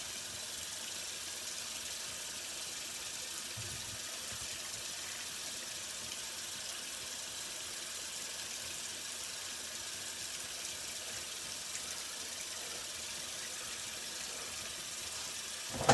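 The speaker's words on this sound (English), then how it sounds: "Do one final cold water rinse." A bathroom tap runs a steady, quiet stream of cold water for a rinse, an unbroken hiss from start to end with no talking.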